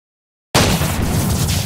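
A single loud shotgun blast from the video game Buckshot Roulette bursts out of silence with a sharp attack, followed by a dense booming decay.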